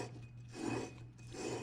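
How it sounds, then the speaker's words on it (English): Abrasive rasping as a flywheel is lapped in by hand with valve grinding compound, a gritty rubbing that swells and fades in two or three strokes against a steady low hum, close by and fairly quiet. "throw a little valve grinding compound on here and lap that flywheel in"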